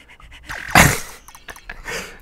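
A dog in the video game Mokoko pants in quick, breathy bursts, close and fairly loud, with a sharper huff midway and no talk.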